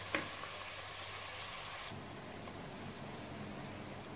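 Ginger garlic paste for mutton biryani sautés in a pan, giving a faint, steady hissing sizzle with a single soft clink near the start and no talk.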